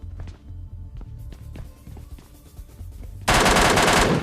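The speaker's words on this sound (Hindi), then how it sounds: "अब मैंने इस पे इतनी ज्यादा गोली चला ली" Gunfire in the video game PUBG Lite: a quick rattle of scattered shots, then a loud, dense burst of automatic fire at the end.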